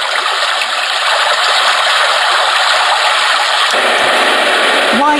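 A Homedics Sound Spa Rejuvenate white noise machine plays its brook setting, a steady, loud broadband rush of flowing water that holds evenly throughout, with a brief tonal chirp near the end.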